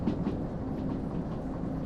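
Train rolling along in the Derail Valley train simulator game, a lighter load heading downhill toward the oil fields; a steady low rumble with faint rhythmic wheel clatter, continuous and alone.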